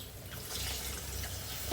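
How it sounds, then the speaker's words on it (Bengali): Water is poured into a pan of cooking sonali chicken with ginger-garlic paste and spices, a short, steady splashing rush heard alone. "পানি দিয়ে দিই"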